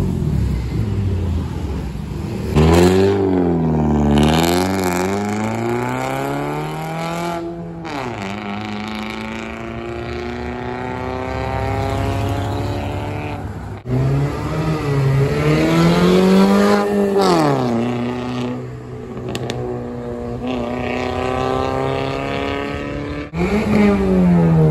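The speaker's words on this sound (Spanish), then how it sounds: "ya cuando lo revolucionas bien, hasta suelta peditos" A modified car engine revs loudly and close by. The pitch surges and falls back several times, with a few sharp cracks between the pulls.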